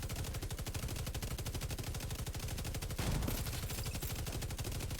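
The GR9 light machine gun in The Division 2 fires a long, unbroken high-rate burst, a rapid even rattle of shots heard close and steady for several seconds with no voices.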